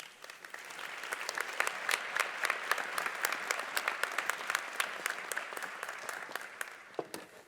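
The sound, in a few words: audience applause welcoming speaker at commencement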